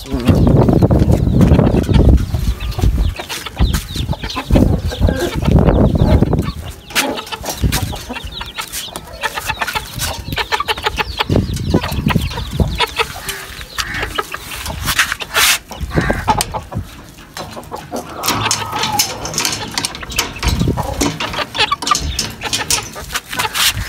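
Chickens and roosters cluck and squawk throughout, a busy flock close by being let out of their cages, with loud bursts near the start and steady farmyard clatter after.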